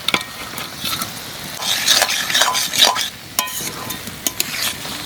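Small fish go into a pan of cooked tomatoes and fry with a close, crackling sizzle, broken by scraping stirs and clinks of a utensil against the pan.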